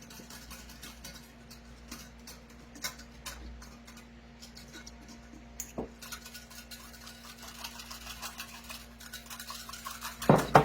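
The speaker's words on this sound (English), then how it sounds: "I'll get a whisk out because that really does want to settle." A whisk mixes pepper steak sauce in a crockpot with quick, light clinking and ticking taps against the pot, quiet at first and growing louder and busier toward the end.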